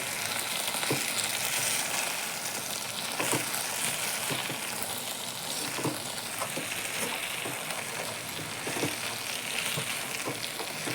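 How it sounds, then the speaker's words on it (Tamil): Vegetables sauté in a pan, giving a steady, continuous sizzle with occasional soft stirring clicks and no talking. "காய் நல்லா வணங்கிட்டுருக்கு கொஞ்சம் கலந்து கொடுத்துக்கலாம்"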